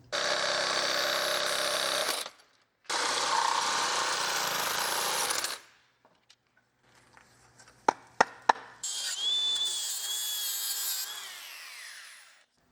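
An angle grinder works the metal of a Jeep WJ winch bumper in two long, loud, steady grinding passes. A pause with a few sharp metallic clanks follows, then the grinder spins up again with a high whine that winds down.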